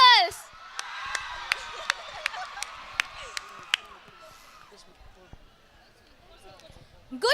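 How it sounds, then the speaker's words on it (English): Students cheer and whoop at a college sports day, a crowd roar with scattered sharp claps for about four seconds before fading to near quiet, then a brief burst returns at the end. "Who applauds louder, the boys or the girls?"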